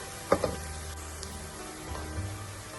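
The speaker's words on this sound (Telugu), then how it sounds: "చూడండి, ఉల్లిపాయలు బ్రౌన్ కలర్ వచ్చే వరకు వేపుకోవాలి చిక్కుడుకాయ మటన్ కర్రీకి." Onions frying in a pan until brown for a mutton curry with beans: a soft, steady sizzle with a couple of brief clinks or stirring knocks near the start.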